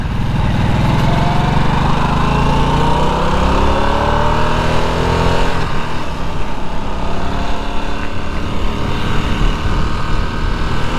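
A 2025 Harley-Davidson Nightster motorcycle rides on a road, its engine droning loud and steady throughout, the pitch climbing through gear changes as it accelerates.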